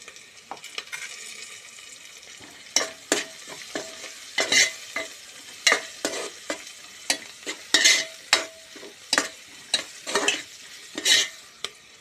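Spices, turmeric and mint frying in oil for chicken pulao, with a soft sizzle under a string of sharp, regular scraping strokes of a spoon stirring the pan, close and loud, with no talking.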